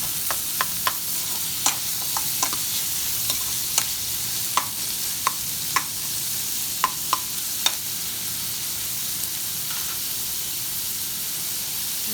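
Chopped onion sautés in an oily pan with coriander, a continuous bright sizzle punctuated by a regular series of crisp spatula taps and scrapes as it is stirred.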